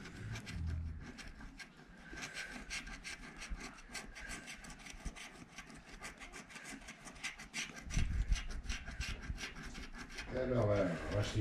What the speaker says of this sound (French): Il faut que tu grattes bien tous les numéros en dessous.